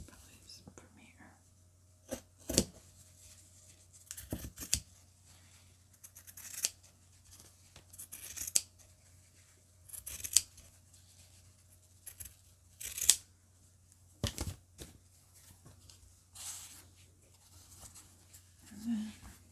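Scissors snip through paper while a junk journal cover is trimmed, giving a string of short, crisp, close cuts with quiet gaps between them and soft rustling of paper.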